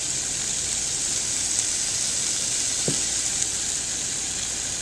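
Chili flakes, fresh thyme and sage sizzle in a hot pan for butternut squash bisque: a steady, close frying hiss that holds evenly throughout, with one brief soft knock of stirring partway through and no talking.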